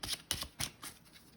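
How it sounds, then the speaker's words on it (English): Playing cards being shuffled for a solo run of the board game Crownfell Last Stand, four quick, soft riffling bursts in close succession, faint and close-up with no talking. "And the rest of the cards get flipped over, shuffled"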